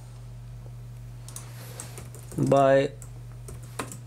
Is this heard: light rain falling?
no